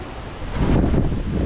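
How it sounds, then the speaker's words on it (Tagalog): Strong storm wind in San Diego roars against the microphone, a loud rushing gust that builds and stays heavy, with no voices. "Grabe ang hangin guys. Sobra ang hangin."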